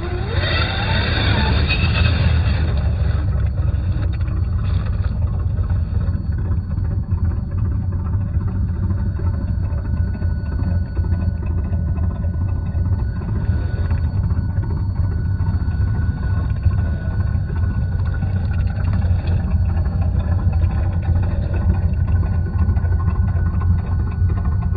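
A radio-controlled square-body Chevy K5 Blazer 4x4 hard top spins its wheels while trying to climb a front axle over an obstacle, giving a steady, continuous motor drone throughout with no talking.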